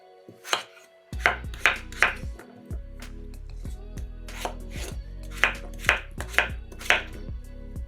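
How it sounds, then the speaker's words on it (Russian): A knife chops peeled potatoes into pieces on a cutting board, about a dozen crisp, close knocks in uneven clusters with no talking. "2 очищенные картошки нарезаем кусками."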